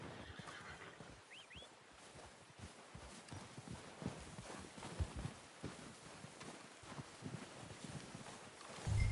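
Horse hooves clip-clopping in Red Dead Redemption 2, a steady run of quiet rhythmic hoofbeats with a brief whinny near the start, fairly faint overall.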